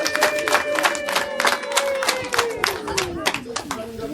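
A crowd of people gathered at a family home visit clap together in rapid, dense applause with a few cheers, a sustained tone sounding over the clapping throughout.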